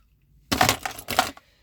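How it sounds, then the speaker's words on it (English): Keys for a 2017 Ford EcoSport Titanium 1.0 EcoBoost are handled close by, giving two short bursts of metallic jingling separated by a brief pause, with quiet before and after. "Then you've got your keys"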